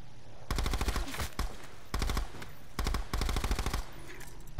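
A Cap 45 machine pistol in Call of Duty rips off four rapid, loud automatic bursts separated by short pauses, close and dominant.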